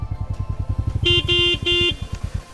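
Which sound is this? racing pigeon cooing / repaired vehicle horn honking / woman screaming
repaired vehicle horn honking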